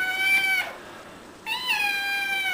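A cat meows twice close by in a kitchen where a Thanksgiving turkey is being prepared, each meow a long, clear, tonal cry with a short pause between them and no talk over them.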